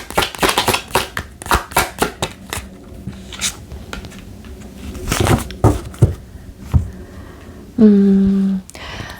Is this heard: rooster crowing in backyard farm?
no